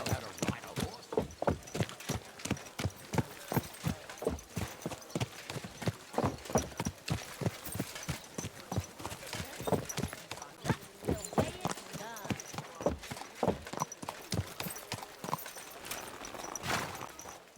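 Horse hooves clip-clop steadily in the video game Kingdom Come Deliverance II, a continuous run of close, moderately loud hoofbeats with faint voices heard now and then underneath.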